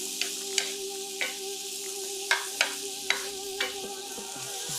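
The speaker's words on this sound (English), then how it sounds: "Now I'm just gonna go in and just give them a little bit of a stir." Shrimp and ginger tossed in a stir fry pan, a steady sizzle underneath with several sharp scraping stirs of the utensil against the pan at irregular intervals, close and clear.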